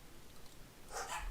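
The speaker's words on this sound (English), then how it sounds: "So those 2 dogs barking in the background." Two dogs bark faintly in the background of a quiet room, with a brief louder burst near the end.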